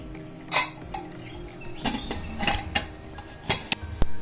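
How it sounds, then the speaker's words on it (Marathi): Metal clinks and clanks of a pressure cooker lid being fitted and closed over soaking chickpeas for chole, several sharp scattered knocks close by, with quieter handling noises in between. "कुकरमध्ये शिजायला ठेवूया झाकण लावून"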